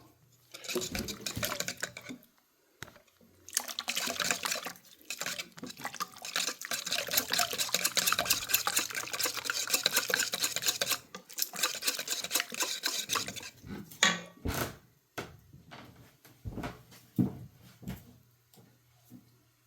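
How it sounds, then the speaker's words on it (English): Donut batter ingredients whisked together until smooth in a bowl, a steady wet scraping and sloshing rhythm with short pauses and a few clinks near the end, close and fairly quiet. "Whisk all these ingredients together until they're smooth"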